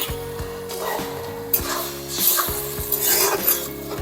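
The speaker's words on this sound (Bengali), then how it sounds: "এখন আমি দিয়ে দেবো একটু হলুদ, 1 চিমটি দিয়ে এই যে নাড়িয়ে দিলাম" A pinch of turmeric and a little water stirred in a cooking pan, with steady scraping and soft clatter against the metal over a constant background hum, close and moderately loud, no voices.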